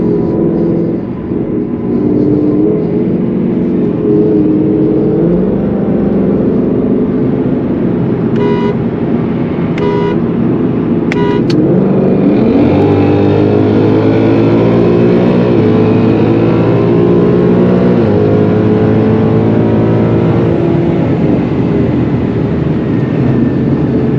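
Gen 3 Ford Mustang pulling hard in a roll race in Sport Plus mode, a loud sustained engine drone rising through the gears near the microphone, with a brief horn-like toot partway through.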